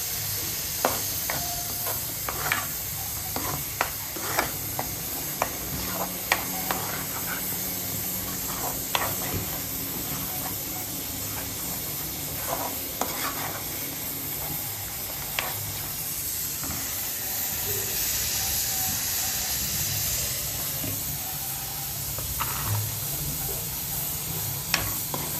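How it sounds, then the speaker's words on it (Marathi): Chicken with masala roasting in oil in a pan, a continuous close sizzle and hiss with repeated stirring scrapes and clicks throughout. "थोडंसं तेल सुटेपर्यंत आपण भाजून घेऊया."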